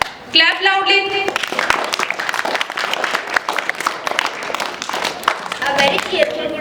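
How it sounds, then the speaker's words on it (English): Schoolchildren and audience clap loudly at an English poem recitation competition, a dense, sustained burst of applause after a short spoken line, continuing for several seconds. "Clap loudly."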